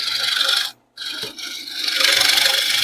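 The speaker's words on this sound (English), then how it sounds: "now with the scraper, I'm just going to work all the way down to the bottom of our depth hole" A scraper cuts the inside of a wooden bowl on a woodturning lathe, a loud, rasping hiss that breaks off briefly in the middle and then resumes steadily.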